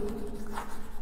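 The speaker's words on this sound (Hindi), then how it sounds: "पहले मैं ऑब्जर्वेशन लिख दूं" A brief, steady scratch of writing on a board as observations from a physics lesson are noted down, close and fairly clear.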